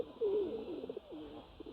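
A pigeon coos in a park, a clear, fairly close run of soft, wavering throaty calls lasting under two seconds, with no talking over it.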